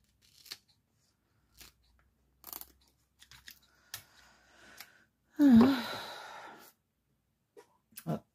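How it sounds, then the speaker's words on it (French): Scissors cutting paper for a vintage junk journal, with sparse short snips and cuts close by, one longer rustling cut in the middle, and a quiet room around them. "j'en ai marre ce ciseau en plus"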